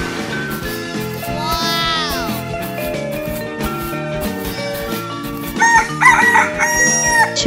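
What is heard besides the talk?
rooster crowing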